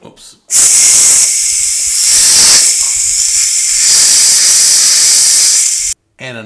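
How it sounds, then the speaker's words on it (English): Steam hisses loudly and steadily from the opened valve of a pressure cooker while chili is being cooked, a sustained close-up roar lasting several seconds, with brief talk before and after it. "When you open the valve on a pressure cooker, any pressure cooker, use a glove because the steam will burn you"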